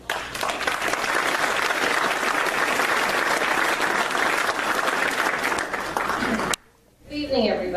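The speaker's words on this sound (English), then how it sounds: "Let's welcome her with applause here." Audience applause welcoming a speaker at a local evening lecture event. Loud, dense clapping fills the room for several seconds, stops abruptly, and a voice then begins speaking.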